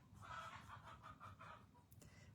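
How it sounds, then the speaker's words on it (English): Soft, repeated clucking from chickens with a steady low rumble underneath, moderately distant and fairly quiet throughout. "Sorry if you hear my chickens."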